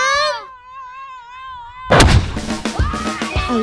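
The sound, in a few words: bamboo cannon (meriam bambu) fired with kerosene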